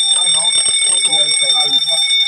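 A high, continuous fire alarm tone from a zone 1 fire suppression system alarm rings throughout while a person talks over it close by.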